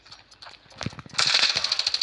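An AK rifle fires in the mobile shooter Standoff 2, a rapid burst of sharp automatic shots close up after a few scattered clicks and thuds.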